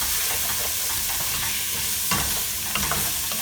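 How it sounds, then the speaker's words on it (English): Ginger, garlic and turmeric sauté in a pan with a constant bright sizzle and spoon scrapes across the pan, with a slightly stronger stir near the middle. "saute it a little bit"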